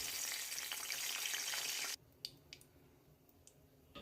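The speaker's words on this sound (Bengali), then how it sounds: "এবার কড়াইতে পরিমাণ মতন তেল দিয়ে তার ভিতর দিয়ে দিচ্ছি এলাচ, দারচিনি," Cardamom, cinnamon, cloves and bay leaf hit hot oil in a pan, giving a loud, dense sizzle that cuts off abruptly and gives way to quieter crackles, pops and spoon clicks.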